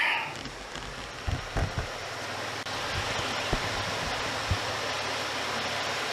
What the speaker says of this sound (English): Pretty bend in the river.